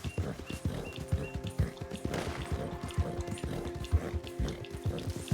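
Horse hooves clip-clop in a steady trotting rhythm while riding in the Western video game Red Dead Redemption II, close and moderately loud over a busy bed of game ambience and music.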